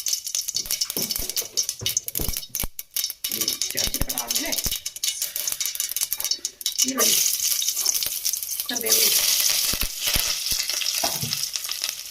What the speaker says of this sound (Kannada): ಹಾಕಿ ನೀಟಾಗಿ ಫ್ರೈ ಮಾಡಬೇಕು